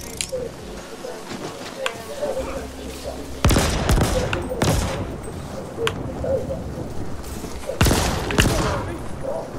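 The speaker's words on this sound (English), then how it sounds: "Just keep shooting." Gunfire in The Ascent video game, with two loud bursts of shooting standing out over a steady, busy layer of game sound and low talk.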